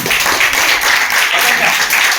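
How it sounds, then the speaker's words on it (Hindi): An audience at a youth team presentation claps in a sustained burst of dense, steady applause that fills the room, with voices mixed in underneath. "भाई के लिए भी तालियां बजा दो।"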